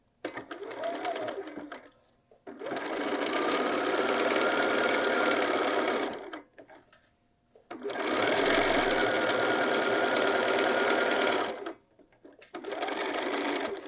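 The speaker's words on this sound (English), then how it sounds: "I'm just going to stitch within the seam allowance using my regular stitch length" Sewing machine running a regular-length straight stitch along pocket pieces inside the seam allowance, in three long steady whirring bursts with brief stops between, loud and close.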